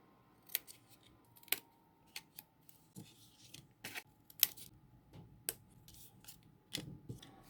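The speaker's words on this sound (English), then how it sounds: "On only the sides of your bag, you're going to cut here and here," Scissors snip through the sides of a paper gift bag, giving a series of crisp, quiet cuts spaced irregularly over several seconds, close by in a still room.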